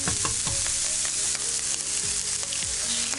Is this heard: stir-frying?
yes